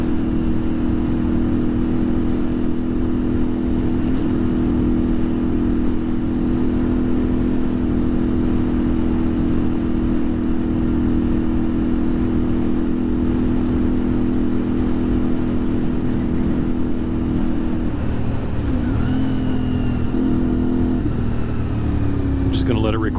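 A CFMoto Ibex 450 adventure motorcycle rides a sandy dirt road, its engine a close, steady drone with wind noise, holding an even pace before shifting pitch near the end, while a voice talks faintly underneath.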